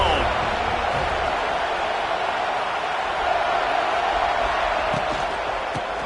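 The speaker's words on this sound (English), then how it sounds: "This crowd ready to make its presence known." Crowd at a college football game between Georgia Tech and Florida State, a dense, steady roar of many voices filling the stadium throughout, heard at a distance with no break.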